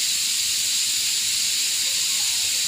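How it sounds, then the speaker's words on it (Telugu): Steam hisses steadily from a kitchen pressure cooker while garlic pickle is being made, a continuous loud high-pitched rush with no breaks and no talking. "మా కుక్కర్ చూడండి ఎన్ని విజిల్లు వస్తుందో."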